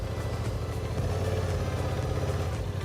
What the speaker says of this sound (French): Et là, on démarre. Et on a un bruit vraiment sympathique, on a vraiment un bruit sportif